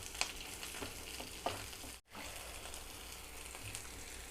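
Urad dal fries in oil in a pan with a faint, steady sizzle and a couple of small crackles, heard alone.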